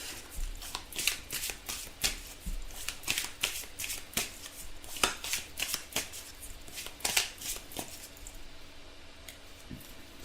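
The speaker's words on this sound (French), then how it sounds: "Alors on va compléter ce tirage avec une carte conseil." A tarot deck is shuffled at length before an advice card is pulled, giving rapid repeated riffles and sharp card snaps close up, steady and moderately loud with no talking.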